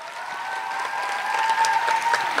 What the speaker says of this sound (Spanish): Los invito a darles un aplauso a todos.